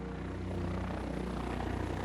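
Steady droning engine and propeller hum of a small aircraft, constant and fairly close, with no voices.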